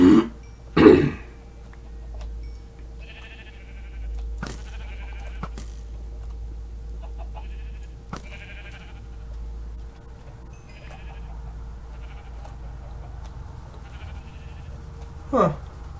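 Sheep in Minecraft (Feed The Beast modpack) bleat a few times, short nasal cries spaced apart against a quiet game background with occasional soft clicks.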